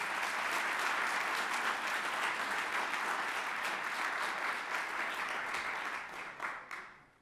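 A large audience at an innovation summit and pitch contest applauds the robotics team's coach with sustained, dense clapping at full strength that fades out in the last second.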